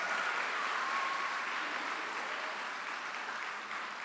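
Fairly faint, steady audience applause fills a conference hall after a keynote speaker is introduced at PopConference 2024, a soft continuous patter with no voices over it.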